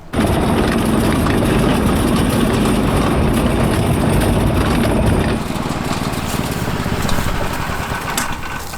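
A cheap 18 HP go-kart engine runs loudly and steadily at close range, its throaty rattle dropping slightly in intensity partway through.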